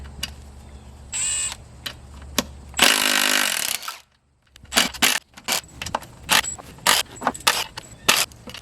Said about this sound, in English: now let's get all these bolts off that connect the main case to the extension housing